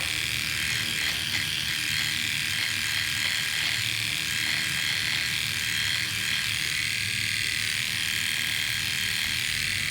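A beard trimmer fading a man's own beard, with a steady high-pitched electric buzz running close and continuous throughout, no voices.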